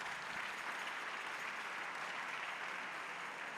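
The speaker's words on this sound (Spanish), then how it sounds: "Yo le invito a que recibamos con una ofrenda de palmas la vida de nuestro pastor" A church congregation claps together for their pastor, a dense, even roll of applause heard from a distance and holding at a steady level throughout.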